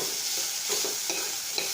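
Onions dry-fry in a kadai over low heat, with a soft sizzle and a few quick scraping strokes of the stirring spoon, quiet and brief with no voices.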